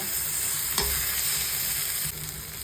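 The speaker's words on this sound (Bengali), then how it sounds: "আলুটা দিয়ে একটু কষিয়ে নেব" Potatoes being sautéed with spices in a pan, a steady close frying sizzle with light stirring scrapes and one brief clack near the start, continuing alone without talk.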